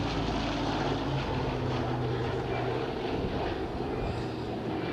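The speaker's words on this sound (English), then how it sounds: "this aircraft was actually built as a C-121, again for the US Air Force" A C-121 propeller aircraft built for the US Air Force flies past at the Wings Over The Illawarra 2022 air show, its piston engines producing a loud, steady droning roar that holds throughout.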